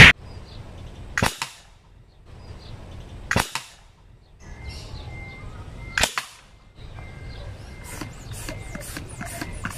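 A homemade alcohol-powered PVC rifle fires four sharp shots outdoors at uneven intervals, each a loud crack followed by quieter clicks and background noise.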